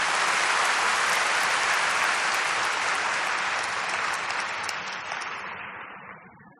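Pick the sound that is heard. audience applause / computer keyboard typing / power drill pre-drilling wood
audience applause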